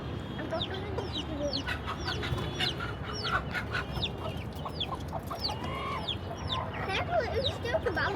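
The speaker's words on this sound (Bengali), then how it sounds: "তা আমাদের অনেক পুরনো একটা মুরগি এটা।" An old hen clucks repeatedly in short bursts close by, with other chickens and birds calling around it on a farmyard.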